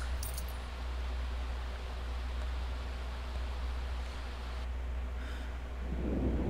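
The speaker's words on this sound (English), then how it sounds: "please don't get struck by lightning" Low thunder rumbles steadily through a stormy scene in a farming video game, a deep continuous roll with a brief crackle near the start and a swelling burst toward the end.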